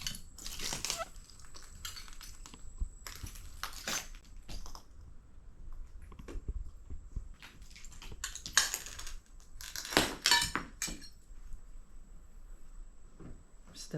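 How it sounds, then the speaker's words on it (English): Boots tread over broken window glass inside an abandoned farmhouse near Jesup, Georgia, producing scattered sharp crunches and tinkling shards in irregular steps, quiet and close, with near silence between the crushing footfalls. "Stepping on all the glass."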